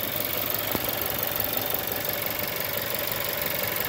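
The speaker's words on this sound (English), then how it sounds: "the engine, you can hear it, it's the four-cylinder one" A 2015 Seat Leon 1.4 TSI FR four-cylinder petrol engine idles steadily with the bonnet open, a close, even mechanical hum and faint ticking that continues without a break.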